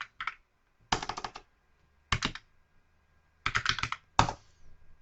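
Bursts of quick typing on a computer keyboard, close and crisp, in short clusters separated by brief pauses.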